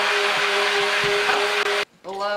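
Immersion blender pureeing zucchini soup in a pot, a loud continuous whirring motor drone that cuts off abruptly and then starts again, with brief speech over it.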